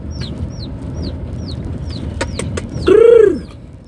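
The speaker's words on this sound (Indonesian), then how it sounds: "Mudah-mudahan tiga buah ayam Birma ini nanti bisa tumbuh besar dan bisa dijadikan sebagai indukan" Burmese chicks peep in a quick repeated series, then a louder hen-like squawk breaks in, close and clear with no talking.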